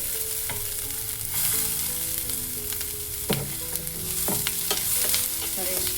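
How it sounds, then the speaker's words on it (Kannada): Onions, garlic and mustard seeds fry in oil over a low flame, giving a continuous soft sizzle with a few sharp stirring taps near the end. There is no speech. "ಲೋ ಫ್ಲೇಮಲ್ಲಿ ಇಟ್ಟು ನಾನು ಈರುಳ್ಳಿನ ಫ್ರೈ ಮಾಡ್ಕೊಳ್ತಾ ಇದ್ದೀನಿ"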